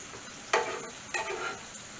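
Minced garlic hits about a teaspoon of hot pure sesame oil in a pan, two quick bursts of sizzling that settle into a steady fry, close and fairly quiet with no talking.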